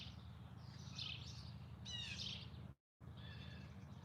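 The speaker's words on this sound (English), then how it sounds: "It's actually a band of blue jays, I think" A group of blue jays calling back and forth outdoors, harsh scratchy calls in short bursts over a low steady background hum, with a brief dropout near the end.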